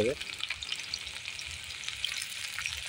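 Onions frying in hot oil in a home kitchen, a steady close sizzle and crackle running throughout with light stirring, no talk over it.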